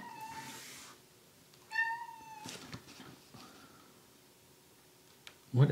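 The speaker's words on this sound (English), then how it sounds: "Now the cat's here." A cat meows indoors in a leather workshop, several distinct drawn-out meows spaced apart, fairly close and moderately loud, with a sharp knock near the end.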